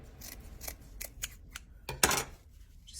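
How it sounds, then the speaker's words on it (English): Scissors snip through leftover burlap on a heart wreath in a quick series of close, crisp cuts, with one louder, longer cut near the end. "you're just gonna trim off some."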